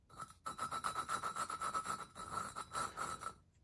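A valve being hand-lapped in a Chinese ATV cylinder head, a fast rhythmic gritty rasping as the valve is spun back and forth against its seat, close and fairly quiet, with no talking.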